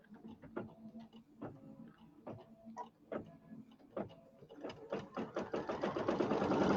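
A sewing machine stitches down pieced pillow-border fabric with right sides together, a run of close rhythmic mechanical ticks that speeds up into a dense continuous whir near the end, heard alone.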